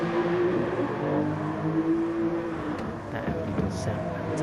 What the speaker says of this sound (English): That Audi does sound fantastic.